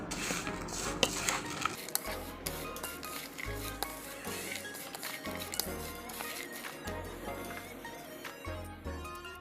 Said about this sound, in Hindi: अभी मैं मिक्स कर दूँगी अच्छी तरह से